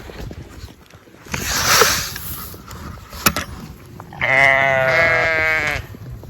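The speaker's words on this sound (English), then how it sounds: "Hey there, sheepy sheeps." Sheep bleat on a farm while being given grain. A short bleat is followed by a long, loud, strongly voiced call, with rustling and shuffling in between.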